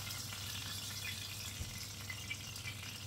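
Steady crackling sizzle of fish frying in hot oil, continuous and close, with a low hum underneath and no talking.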